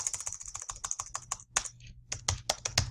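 Rapid close-up typing on a computer keyboard, a quick run of crisp keystrokes with a brief pause midway before resuming.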